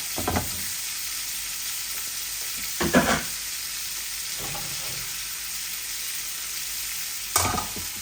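Pangas fish and fish heads fry in a pan with a steady, close hiss of sizzling oil, broken by a few louder spattering bursts as the pieces are stirred or moved.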